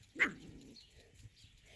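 A single sharp puppy bark rings out near and fairly loud, one of a litter playing with bigger pups, followed by faint low rustling.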